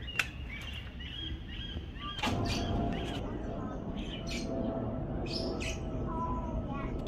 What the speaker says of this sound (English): Oh wow, there's a ton of birds.